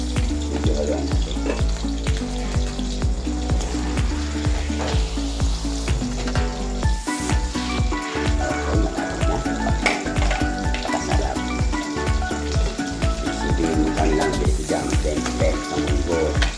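Mung beans (monggo) sizzle and fry in a pan, with a continuous loud crackle and intermittent scraping stirs throughout, close and steady.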